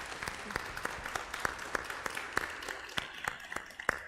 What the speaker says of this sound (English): Can we have a round of applause and welcome our candidate, Saddam Salim?